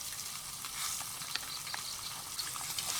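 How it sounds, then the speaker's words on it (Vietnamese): Fish frying in a pan with a steady, close sizzle and crackle, small pops scattered throughout, no talking. "Cá rán sắp được chưa anh ơi?"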